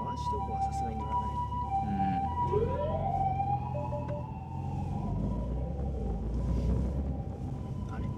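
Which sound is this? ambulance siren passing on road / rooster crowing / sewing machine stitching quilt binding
ambulance siren passing on road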